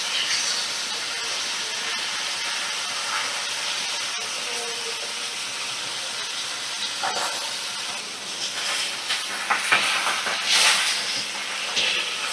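Pomfret fish fry in oil in a pan, a continuous loud hissing sizzle that swells with sharper spatters and bursts toward the end as the fish are turned, with no talk.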